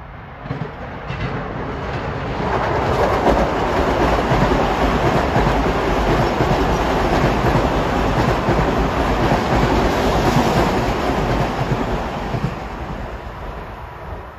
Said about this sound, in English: Approaching at 3:02 is train 1555 from Huntington to Penn Station.